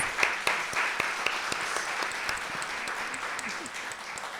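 Round of applause welcoming a panel at a book festival, a crowd clapping steadily with a few sharp individual claps standing out, gradually easing off.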